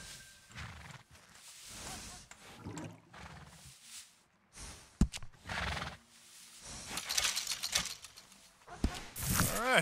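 In Red Dead Redemption 2, a workhorse neighs and whinnies close by among clip-clopping hooves, with bursts of movement and some talk around it.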